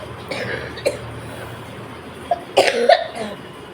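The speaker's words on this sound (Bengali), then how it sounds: "আর এই মারাত্মক একটা কাশি" A person with a painful sore throat coughs badly: one short cough, then a harsh cluster of two or three loud, close hacking coughs near the end.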